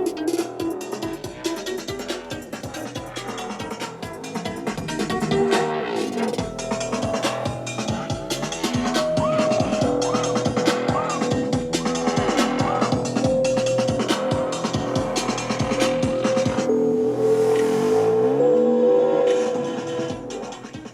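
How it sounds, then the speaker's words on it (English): Music plays through a 2017 Audi A4's 755-watt, 19-speaker Bang & Olufsen 3D sound system, full and wide, with layered tones and steady rhythm filling the cabin for the whole stretch. "What you are hearing now is a 755 watt, 19 speaker Bang & Olufsen 3D sound system."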